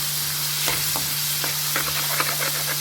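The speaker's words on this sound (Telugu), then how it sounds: "ఉల్లిపాయలు అయితే మనం మంచిగా మగ్గించుకోవాలి" Chopped onions fry with ginger garlic paste for a jackfruit curry, a steady bright sizzle with a low hum beneath and several distinct scrapes and stirs of a spoon in the pan, no voices.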